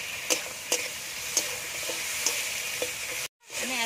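Potatoes fry in a pan with cumin and dry red chili paste, a steady hiss of sizzling oil broken by a few sharp scraping stirs, then a brief cutout before the sizzle swells back.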